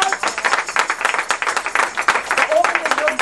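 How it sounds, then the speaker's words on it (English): A round of applause from an audience at a Gullah/Geechee community gathering, uneven clapping pulsing for a few seconds, close and fairly loud, with voices underneath. "let me give him a round of applause."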